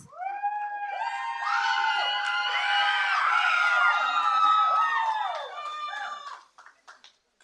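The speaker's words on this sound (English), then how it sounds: "One more big round of applause for the Lynwood Knights." A crowd at a school board meeting cheers and whoops for the Lynwood Knights, with loud overlapping shouts and high excited voices swelling for several seconds before trailing off into scattered calls.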